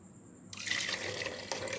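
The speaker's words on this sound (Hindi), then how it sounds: "अब हम इसमें 1 गिलास पानी ऐड कर देंगे।" A glass of water is poured into mutton masala for Hyderabadi tala hua masala gosht, and the steady splashing gush starts suddenly and runs close and loud for over a second.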